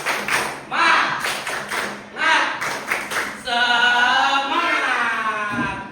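Children in a classroom clap out a rhythmic chant, sharp clustered claps in a beat mixed with their chanted voices, which swell into sustained group singing toward the end.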